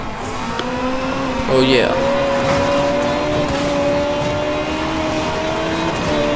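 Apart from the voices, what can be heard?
car driving in Need for Speed Most Wanted video game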